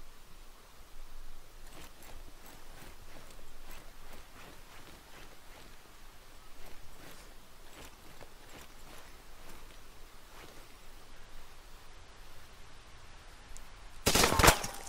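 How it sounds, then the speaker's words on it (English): Scattered gunfire in Arma 3 on the Chernarus map, faint distant shots cracking irregularly at first, then a sudden loud close burst at the end. "Fuck, I'm getting shot. I'm taking shots."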